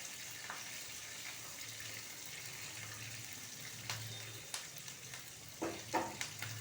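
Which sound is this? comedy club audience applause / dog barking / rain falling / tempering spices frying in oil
tempering spices frying in oil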